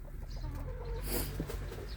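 Hens cluck in a rural farmyard, with several soft, overlapping clucks and calls close by and a brief brighter rustle near the middle.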